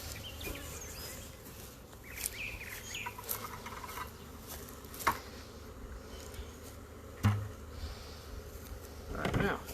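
A swarm of honey bees being shaken into a bucket fills the air with a low, steady buzzing hum, and sharp knocks and thumps break through it now and then.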